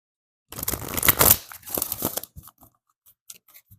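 Oracle cards shuffled and drawn from a deck: a close, crisp burst of papery riffling and rustling, followed by a few soft, scattered taps and flicks as a card is pulled.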